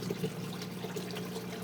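Water poured onto potted plants gives a faint, steady trickle with a low hum beneath it, continuous for under two seconds, with no voices.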